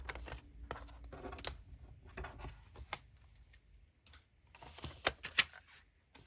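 Paper being trimmed along a marked line with a small craft trimmer for a specimen slide book project, giving a run of quiet, close, crisp cuts and clicks in irregular bursts.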